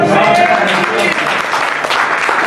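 A church congregation applauds loudly and continuously during a French-language prophetic sermon, the clapping dense and close, with voices mixed in.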